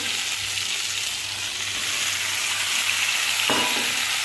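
Pona fish going into a pan of frying vegetables for a light Bengali fish curry: a loud, continuous hiss of hot oil that holds steady throughout, with a brief bump near the end and no voices.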